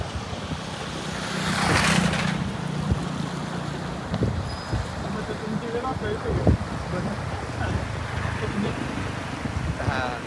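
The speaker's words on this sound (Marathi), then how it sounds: "पुलाला पूर्णपणे घासून पाणी आहे सध्या" Floodwater of the swollen Krishna river rushes against the Amnapur bridge, a broad, steady roar of flowing water mixed with gusts of wind across the microphone, fairly close and continuous.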